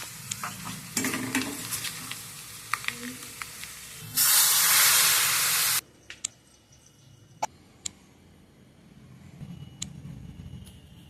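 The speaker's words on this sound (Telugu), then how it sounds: "సాంబార్ అయితే పోపు పెట్టుకుంటున్నాం" Spices tempering in hot oil for sambar, crackling sizzle with sharp clicks and utensil taps, a loud burst of hissing spatter midway, then quieter scattered pops.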